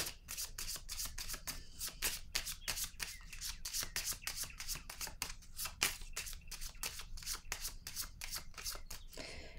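A deck of cards is shuffled by hand at close range, producing a steady run of quick, crisp riffling snaps that repeats evenly throughout, with faint speech underneath.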